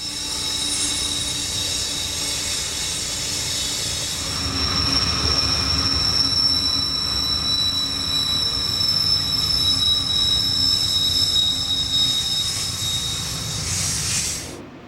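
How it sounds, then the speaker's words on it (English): A westbound unit grain train rolls downgrade through a loop in California's Feather River Canyon, its railcars rumbling steadily with sustained high-pitched wheel squeal, louder through the middle and fading at the end. "A westbound unit grain train shows how much and how fast a train drops downgrade"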